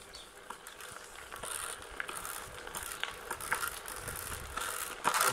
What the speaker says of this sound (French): C'est juste les cailloux qui accrochent un peu au pneu et qui passent du coup dans le